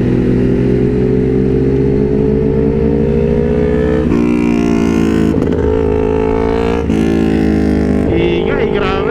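A Yamaha XSR900 motorcycle exhaust roars nearby with a deep, steady rumble and several sharp revs.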